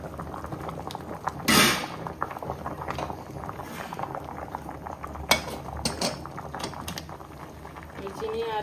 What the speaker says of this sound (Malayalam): കഴുകി വൃത്തിയാക്കി നമ്മൾ വേവിക്കാൻ വെച്ചിട്ടുണ്ട്.